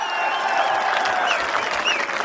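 A large crowd claps steadily and densely throughout at an outdoor election rally in Rajasthan, loud and sustained with no pauses.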